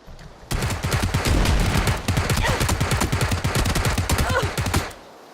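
Rapid automatic gunfire from the PUBG video game rattles in a loud, close, continuous burst lasting nearly five seconds, with dense repeated shots and no pauses.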